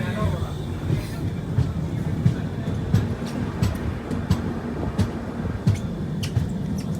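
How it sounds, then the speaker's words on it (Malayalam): A passenger train at Shoranur begins to pull away, a steady low rumble with regular soft clunks of the wheels over rail joints, heard from inside a carriage with people talking nearby. "ട്രെയിൻ ഇങ്ങനെ മൂവ് ചെയ്ത് തുടങ്ങി"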